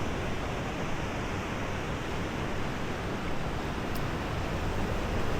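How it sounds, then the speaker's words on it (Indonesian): Big waves at Watu Bolong beach, Yogyakarta: a steady, loud roar of surf and wash that fills the whole time without pause, with some wind in the background. "Sebenarnya ombaknya baru gede ya, guys."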